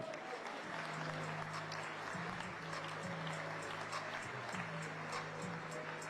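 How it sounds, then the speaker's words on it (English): Crowd applause at a boxing weigh-in for a welterweight champion: steady, sustained clapping from a large audience heard at some distance, with a low electrical hum running underneath. "keep that round of applause going"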